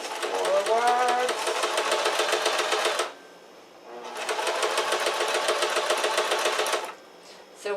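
A sewing machine stitches walking shorts in two long, even, rapid runs separated by a short pause, loud and close, with a voice heard briefly at the start.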